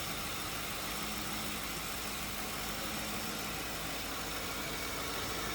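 Smooth, steady idle of a 2004 Lincoln Town Car V8 engine with a soft, even hum and hiss at moderate level, no talking and no revving.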